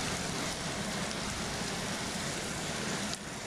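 Heavy rain pours down steadily in Crupalati as a dense, loud, unbroken roar of water on surfaces, with no voices over it.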